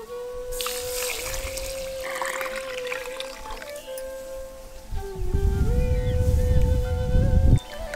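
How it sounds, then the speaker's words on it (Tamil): Water is poured onto half a kilo of kodo millet to soak, a close gurgling trickle that swells into a louder, fuller pour before stopping abruptly. "1/2 கிலோ வரகரிசியை இப்ப தண்ணி ஊத்தி ஊற வச்சிடலாம்"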